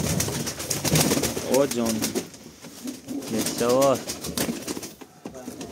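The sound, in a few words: pigeons cooing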